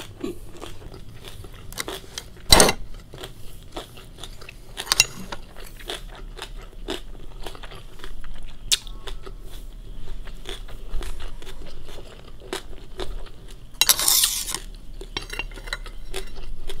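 Close, quiet chewing of Korean boiled pork belly bossam during a mukbang, with soft wet bites and crunches, scattered cutlery and dish clinks, and a brief louder rustle near the end; no talking.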